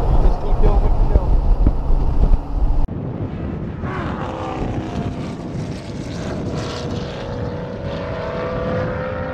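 A Dodge Challenger driven on a road-course race track under a yellow flag, its engine a steady loud roar with heavy wind buffeting across the microphone, the tone shifting after a few seconds as the car carries on at moderate pace.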